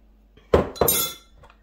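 Metal spoon scrapes yogurt from the ceramic insert of a crockpot in two quick, sharp clinking strokes, close and bright, followed by a faint clatter and then quiet.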